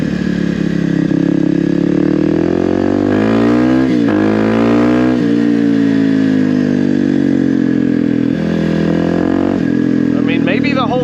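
A Kawasaki KLX300R dirt bike fitted with an EJK fuel tuner revs loud and close, its engine pitch rising and falling through the power band in repeated sweeps for several seconds, with no popping.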